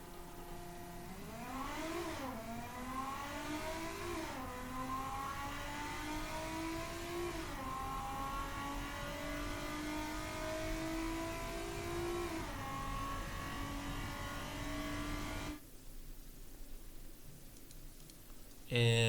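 A 2010 luxury car with 333 horsepower and all-wheel drive accelerating down a quarter mile in Automation, its engine revving up through several gear changes over a sustained whine before cutting off abruptly.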